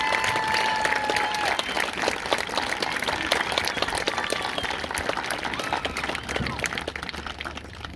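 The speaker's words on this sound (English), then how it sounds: "let's give them a round of applause" Sustained round of applause from the audience at an 8th grade send-off ceremony, steady dense clapping filling the room throughout, with faint voices underneath.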